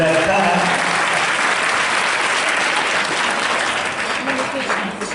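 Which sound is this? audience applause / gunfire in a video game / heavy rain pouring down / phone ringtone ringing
audience applause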